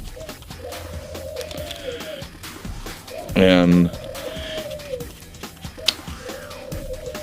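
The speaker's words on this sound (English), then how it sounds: "if you can't hear, my birds, they're going crazy." Pet birds coo and call repeatedly in short rising-falling phrases nearby, while a person speaks over them.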